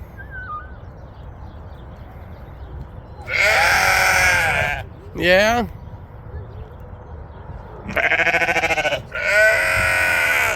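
Sheep and lambs bleating on a farm, several loud close bleats in separate bursts with quiet gaps between, over a low background hum and a brief spoken word.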